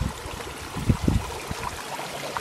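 Water bubbling at the Cold Soufriere volcanic spring in Dominica, soft gurgles and a few low blips over an outdoor ambience, close but quiet.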